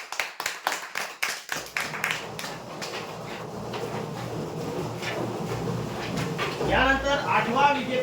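Brief crisp claps in the opening seconds give way to a dense, sustained wash of crowd applause and chatter at a lucky draw prize announcement, with a voice rising near the end.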